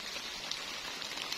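Rain falls in a forest, a soft, steady patter of drops with a few sharper hits, faint and continuous with no voices.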